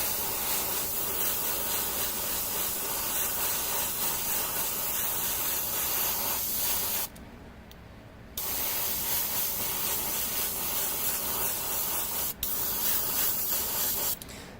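Steady airbrush hiss sprays paint onto an Adeptus Mechanicus Pteraxii Skystalker miniature, continuous and close, pausing briefly partway through and again near the end.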